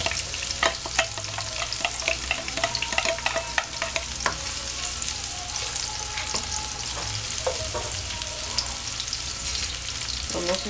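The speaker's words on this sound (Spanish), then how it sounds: "aquí tenemos la cebolla cabezona con el aceite de oliva. Vamos a empezar a sofreír los ingredientes." Onion and garlic sauté in olive oil in a pan, a loud continuous crackling sizzle with frequent spatters and occasional stirring scrapes, close and unbroken throughout.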